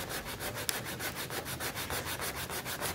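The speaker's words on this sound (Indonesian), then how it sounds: "Bagian kakinya sama diamplas juga." Rapid back-and-forth scratching of sandpaper on the wooden legs of a handmade wooden toy, close up and rhythmic, about five strokes per second.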